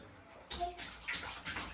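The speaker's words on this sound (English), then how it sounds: "Splash, splash, splash." A small child splashes water in a bath at home: three or four quick, close splashing bursts in succession, fairly loud against a quiet room.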